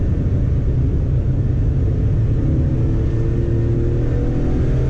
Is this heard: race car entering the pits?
yes